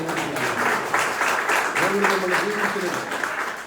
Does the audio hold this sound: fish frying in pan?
no